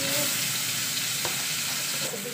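Ensabi (Dayak mustard greens) cooking with salted fish in a pan, a loud, dense continuous sizzle with stirring scrapes and a brief clink, heard close with no talk.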